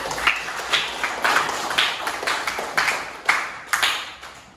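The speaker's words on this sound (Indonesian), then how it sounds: "beri tepuk tangan kepada Kak." Students in a classroom clap during a religious studies lesson, giving a sparse, rhythmic round of claps in small clustered groups, nearby and fairly crisp.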